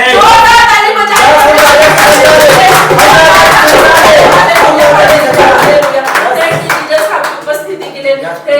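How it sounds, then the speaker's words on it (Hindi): A church congregation claps loudly together during a Sunday worship service, a dense, sustained burst of many hands over music and voices, continuing at full strength for several seconds. "जोरदार ताली बजाएं"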